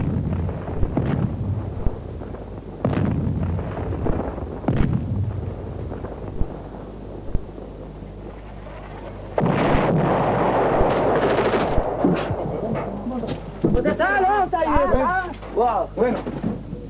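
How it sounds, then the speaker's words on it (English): Artillery or tank shells land during Syrian shelling on a ridge near Zahle, with several loud booms followed by a long roaring rumble and wind buffeting the microphone. Voices rise near the end. "we received a piece of incoming that was far too close for comfort. It was either an artillery shell or a tank shell."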